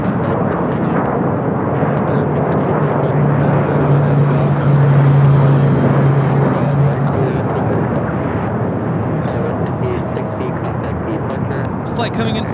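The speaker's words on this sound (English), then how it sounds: "This flight coming in from Vancouver, flight 554." An airliner on flight 554 from Vancouver arrives at LAX with a broad, steady jet roar that swells slightly midway and holds loud throughout.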